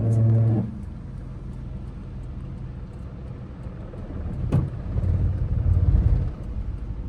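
A car climbs a slope in first gear on a learner's driving lesson. The engine hums low and steady, then rises into a heavier, vibrating drone with a brief sharp knock partway through.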